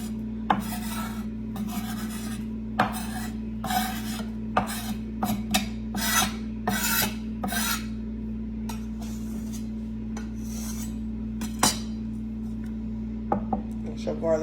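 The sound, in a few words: garlic being scraped into butter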